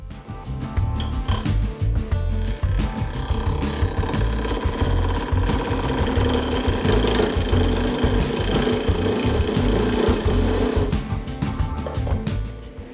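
A wood lathe turns a tenon while a skew chisel cuts it, giving a loud, steady, close-up machine whir with a rough scraping texture throughout, and no talking.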